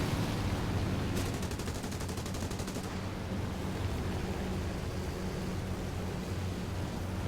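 Aircraft cannon and machine-gun fire in War Thunder rattles in a rapid burst of dense, even reports over a constant engine roar, followed by continuous loud engine drone.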